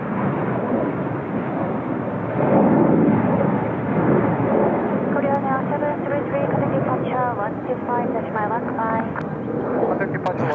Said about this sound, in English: Oh, look at all these heavies moving.